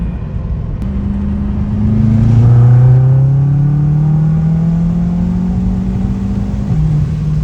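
A BMW F10 M5 on a dyno, fitted with methanol injection, revs hard through a third-gear pull, its engine note climbing steadily and loudly for several seconds before easing off near the end.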